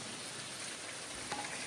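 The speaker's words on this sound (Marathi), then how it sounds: "पाऊस अजून बाहेर तसाच आहे" Rain falling outdoors during a rainy evening in the Konkan region, an even, soft hiss of steady rainfall with a small knock near the end.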